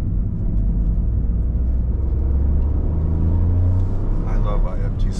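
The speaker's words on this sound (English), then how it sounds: "But downshift, rev match, without doing heel toe." Engine of a 2023 Toyota GR Corolla rumbles and rises in pitch as it rev-matches on a downshift, loud and close with someone talking over it.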